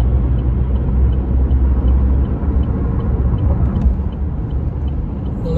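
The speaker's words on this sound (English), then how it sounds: "This traffic is ridiculous, but I'm on my way." Road traffic from inside a moving car: a steady low rumble of engine and tire noise, muffled and continuous, with no talk over it.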